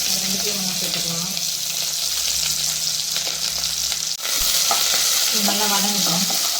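Small shallots, curry leaves and fenugreek sauté in hot oil for a Tamil fish curry, a steady close sizzle with stirring scrapes and a brief clatter partway through.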